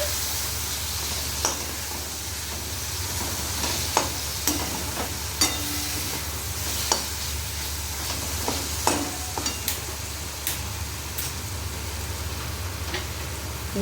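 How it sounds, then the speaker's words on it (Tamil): Onions and tomatoes sauté in a pan for a South Indian onion-tomato chutney, giving a steady close sizzle with scattered sharp clicks of a spoon stirring against the pan, no talking. "இந்தளவுக்கு வதங்கியிருக்கு நல்லா. இன்னும் கொஞ்சம் வதங்கணும்."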